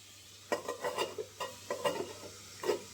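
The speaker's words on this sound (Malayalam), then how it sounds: "ഒന്ന് ഇളക്കി കൊടുത്തിട്ട് ഒന്ന് വശക്കാനായിട്ട് ഒന്ന് വെയിറ്റ് ചെയ്യാം" Spices sizzle in a pan for Kerala rasam as a spoon stirs them. About eight soft, quick scraping strokes sound close and fairly faint over a low hiss.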